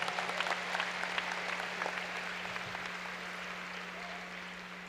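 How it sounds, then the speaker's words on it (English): Soft, distant audience applause for a choir at a Cedar Park graduation ceremony, steady clapping that slowly tapers, faint over a low electrical hum. "about another big round of applause for our choir?"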